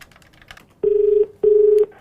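Two long, loud electronic telephone dialing tones sound one after the other, each lasting about half a second, placed from a phone for a radio prank call to someone in Jalandhar, with faint clicks before them.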